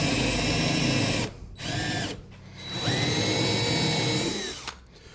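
A battery-powered cordless drill bores into wood in two bursts, whining up and down in pitch with short pauses between, close and loud, with no voices.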